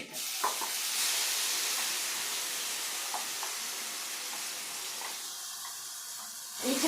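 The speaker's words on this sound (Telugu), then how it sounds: "వీటన్నిటిని బాగా వేగాలి కాసేపు వేయించాలి" Chutney ingredients frying in a pan, a steady quiet sizzle and hiss with a few faint clicks of stirring, close by, with no talk over it.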